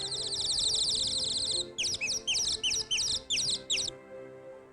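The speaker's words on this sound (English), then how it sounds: "Oh, listen! A nightingale!" Nightingale singing in a long rapid trill of bright repeated notes, then a series of short separated phrases, clear and fairly close over a low background hum.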